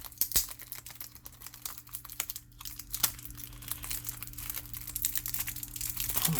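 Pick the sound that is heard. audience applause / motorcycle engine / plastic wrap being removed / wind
plastic wrap being removed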